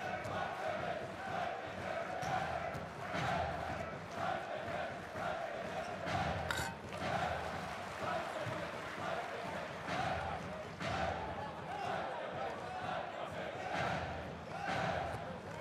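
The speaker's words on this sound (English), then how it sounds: "Good noise in the gym, good atmosphere building in the gym though." Steady crowd murmur fills an indoor gym at a Basketball Champions League game, with occasional shouts and cheers rising over a constant roar and a voice talking throughout.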